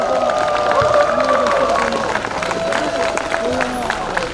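At an outdoor election campaign rally in Hamyang, a crowd claps in a steady, dense wash while an amplified voice speaks over a loudspeaker and the hubbub of the gathering carries underneath.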